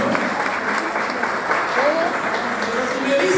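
Church congregation clapping together during a sermon, steady and fairly loud for a few seconds, with voices mixed in beneath the applause.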